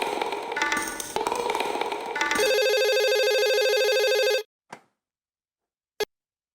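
An office telephone rings with a sustained electronic trill after some background bustle, cutting off abruptly, followed by two short clicks like a receiver being handled, indoors and fairly clear.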